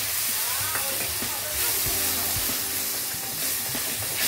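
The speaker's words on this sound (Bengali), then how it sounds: "ভালো করে মশলাটা কষিয়ে নেবো।" Spice masala fries in a pan with added water, giving a loud, continuous hissing sizzle with occasional stirring knocks, close up.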